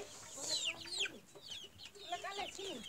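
Chickens clucking at close range in a Nepali village where local rice wine is made, with short repeated clucks and squawks coming in uneven bursts throughout.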